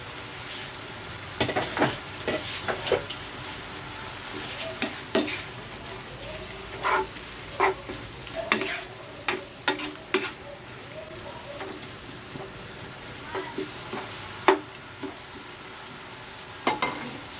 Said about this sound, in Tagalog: Takpan muna natin para maluto yung ating talbos.